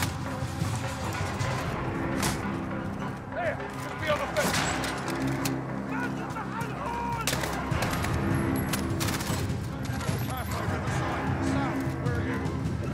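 Rapid bursts of gunfire and scattered shots from the Old Comrades mission of Call of Duty Modern Warfare, played in realism mode, keep up a steady combat din beneath near-constant talking.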